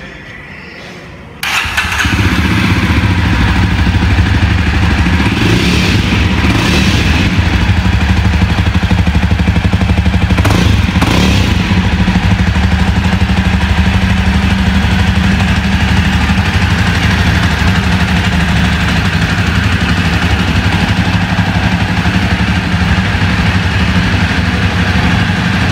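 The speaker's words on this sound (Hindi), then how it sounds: "आवाज़ कोई इतनी ज़्यादा लाउड नहीं है इस साइलेंसर की" A Jawa Perak motorcycle with a dual silencer starts up after a brief pause, then idles steadily and close by, a deep even engine rumble that holds for the rest of the stretch.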